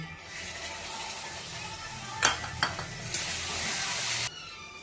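Tomato paste and ground spices (turmeric, chili, cumin) sautéing with fried onion in a pan, a steady close sizzle with a few sharp stirring scrapes near the middle and no talk.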